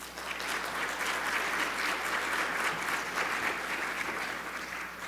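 An audience at a talk claps in a full, sustained burst of applause that holds steady throughout and tapers off slightly at the end, with no voices over it.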